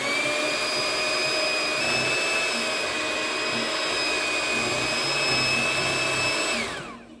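An electric mixer runs steadily, loud and close, whirring through a cream cheese filling with vanilla for a no-bake raspberry chocolate cheesecake, then winds down and stops at the end.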